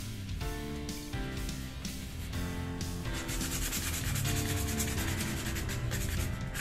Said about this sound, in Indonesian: Ini saya menggunakan amplas